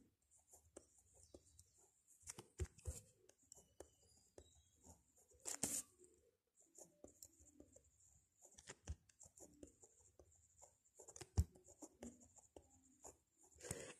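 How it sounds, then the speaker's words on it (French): Marker or chalk writing on a board during a French grammar lesson, with scattered short scratchy strokes and taps coming in bursts, close and fairly quiet, no talking. "Alors, j'écris le radical."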